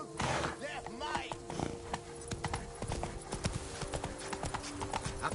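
Hooves of the horse Roach clatter in a quick galloping clip-clop in The Witcher 3 game, loud and rhythmic throughout, with voices talking over the hoofbeats.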